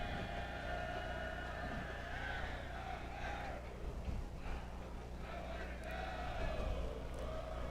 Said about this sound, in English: this crowd just got a whole lot louder